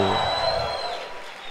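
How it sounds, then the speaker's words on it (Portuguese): Church congregation at a Sunday service applauding and shouting in a dense, steady wash of crowd noise for the whole moment, a little loud and fading slightly toward the end. "Então dê ao Senhor um aplauso e um grito de júbilo!"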